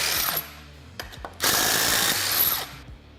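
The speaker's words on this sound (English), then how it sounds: "go ahead and remove our front wheels and tires" Power tool whirring in short bursts while front wheels come off a Polaris RZR XP Turbo, with ratcheting clicks, a brief burst near one second and a longer sustained run in the middle, close and fairly loud.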